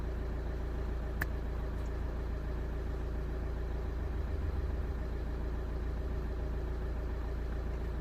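The 2.0 CDTi diesel engine of a Vauxhall/Opel Zafira with DPF faults idles steadily nearby with a low, even rumble and a faint rhythmic clatter, unchanging throughout with no talking.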